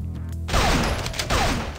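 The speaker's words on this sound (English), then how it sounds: "Fire a few celebratory heart gun blasts" Two bursts of rapid gunfire from the heart gun in The Dishwasher: Vampire Smile, loud blasts with quick repeated impacts ringing out over game sound.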